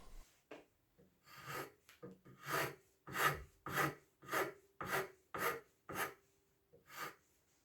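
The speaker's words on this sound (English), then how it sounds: "Whenever you're filing a curve, it always helps to touch the workpiece with your fingertips" Rhythmic rasping of a hand file shaping a curve on a small wooden miniature Viking axe workpiece, about a dozen close strokes in a steady back-and-forth pattern, no voices.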